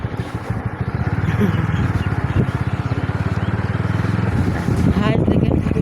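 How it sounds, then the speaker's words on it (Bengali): A motorcycle travels along a village road, its engine giving a close, steady, rapidly pulsing low thrum that runs through the whole ride, with some wind noise and a brief rise at the end. "আর এই যে আমি তো বাইক চালাচ্ছি।"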